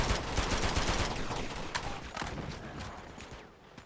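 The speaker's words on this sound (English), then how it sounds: "Is there gunshots below me or above me?" Video game gunfire crackles in a dense, rapid stream of faint shots that fades gradually.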